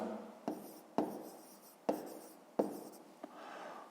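Hand writing on paper for a fifth-grade maths exercise, four or five distinct scratchy pen strokes with short pauses between, close up and with no voice.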